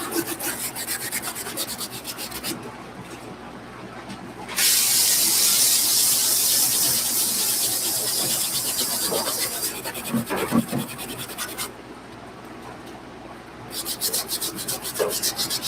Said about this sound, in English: Using my wire bristle brush on the sides of the bottom.